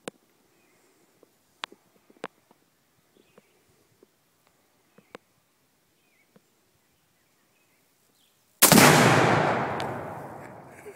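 A rifle shot sets off a floating Tannerite exploding target, a single loud, booming blast that rolls out and fades over a couple of seconds after a quiet outdoor stretch with scattered faint clicks and footsteps.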